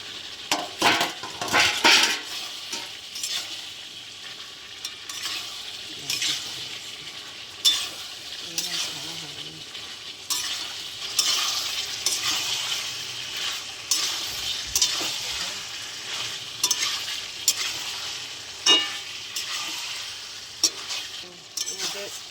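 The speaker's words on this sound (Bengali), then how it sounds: "ভাজা আলুগুলো দিয়ে দিলাম।" Fried potatoes tossed into spice masala for aloo dum, steady sizzling close by with frequent spatula scrapes and occasional clinks of metal on the pan, continuing throughout with no voices.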